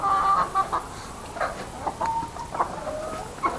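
Hens cluck in a chicken coop, a steady run of close, overlapping clucks and short calls over a low barn hum, with no talk.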